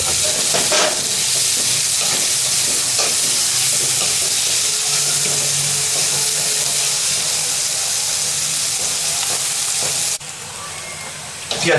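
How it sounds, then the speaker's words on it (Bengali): Thinly sliced onions frying in a pan make a loud, continuous hissing sizzle close by, with occasional clinks and scrapes, then a sudden drop in level near the end. "ধীরে ধীরে আমি পাতলা করে যে পেঁয়াজগুলোকে কাটলাম সেগুলো একটু লাল লাল হয়ে যাবে"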